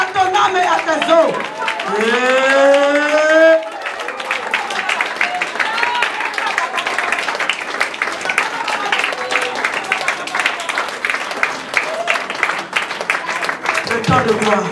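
A church congregation at a Sunday service breaks into steady applause and cheering, dense and sustained, following a preacher's raised voice at the start.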